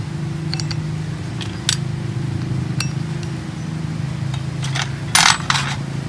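Small CVT weight balls for a CF Moto 400-450cc engine clink sharply a few times as they are set into the variator, over a steady low engine hum.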